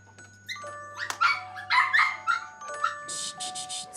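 A small puppy gives a run of short, high yips and barks, several in quick succession, fairly close and moderately loud.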